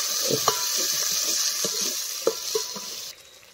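A spoon stirs chili powder and salt into hot oil in a pan over a wood-fired stove. The oil sizzles softly while scattered scraping taps sound close by, then the sizzle drops suddenly near the end.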